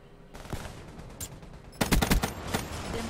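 Gunfire in Black Ops 3 multiplayer, a few scattered sharp shots followed by a rapid burst of several loud cracks, then another single shot, with no talk.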